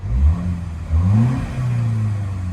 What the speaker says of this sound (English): So we'll give it a couple revs.